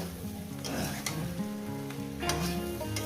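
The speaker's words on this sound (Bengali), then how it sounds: "এই চচ্চড়িটাকে আমি মশলার সঙ্গে কষিয়ে নেব" Chorchori of mixed vegetables with spices, for a rohu fish head dish, sizzles steadily in a hot pan as it is sautéed and stirred, a continuous close frying hiss with no voices.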